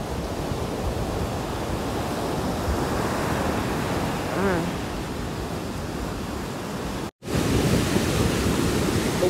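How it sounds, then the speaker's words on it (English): Ocean waves rolling onto a beach at Cocoa Beach, a continuous loud surf roar with wind buffeting the microphone, a brief voice partway through and a short dropout near the end. "The waves in the back looking beautiful."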